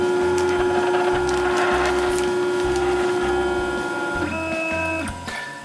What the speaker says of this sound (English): it's just a little bit louder because I've got the printer on.